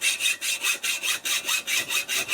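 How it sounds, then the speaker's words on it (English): Hand saw cutting through a metal threaded bar outdoors on a treehouse build, about ten quick, even back-and-forth strokes in a steady rasping rhythm, close and clear. "Now we're just cutting a threaded bar"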